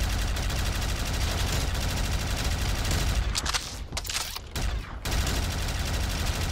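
An LMG fires long, rapid bursts in a Black Ops 3 custom zombies map, a loud, dense rattle of gunfire that drops out briefly near the end and then resumes.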